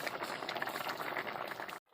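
Water boils steadily in a cooking pot for a village-style fish curry, a close, continuous bubbling and popping that stops abruptly just before the end.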